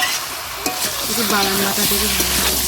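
Aloo dum, a potato curry, sautéed and stirred in a pan at an outdoor picnic, with steady sizzling and scraping under faint background voices and tonal chatter.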